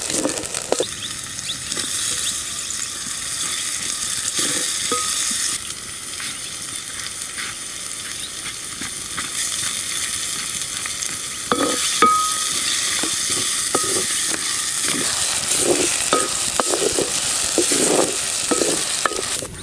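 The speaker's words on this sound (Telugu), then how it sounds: "ఉల్లిగడ్డ రోస్ట్ అయినాక అల్లం పేస్ట్ వేసి బాగా పచ్చివాసన పోయే వరకు" Ginger paste fried with roasted onions for a small-fish curry, stirred in a hot pan: a strong, steady sizzle with frequent scraping strokes, close and loud, with nobody talking.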